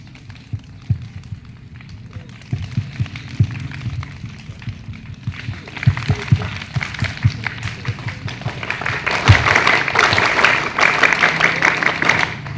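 Children clap out the rhythmic Pancasila clapping pattern, sharp patterned claps starting sparse and building into a denser, louder burst of group clapping toward the end.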